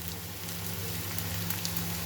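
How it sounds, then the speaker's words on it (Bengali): Taro stalks frying with coriander, cumin and Kashmiri chilli powder in a pan, giving a steady soft sizzle with a low hum beneath and a faint clink near the end; no talking. "এবার এটাকে ভালো করে ভাজতে হবে, যতক্ষণ না কচুটা বেশ ভালো রসটা শুকিয়ে যায়।"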